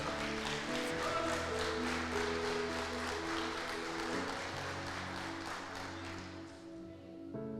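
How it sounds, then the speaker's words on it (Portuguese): A church congregation applauds during a sermon, a steady wash of clapping with sustained organ or keyboard chords beneath, tapering off toward the end. "Você pode aplaudir a Jesus pela vida dele?"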